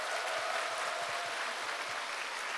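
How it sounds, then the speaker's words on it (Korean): Dense, steady applause from a seminar audience of trainees clapping for themselves, a continuous hiss of many hands held at an even level without breaks. "큰 박수를 자신에게 보내시기 바랍니다"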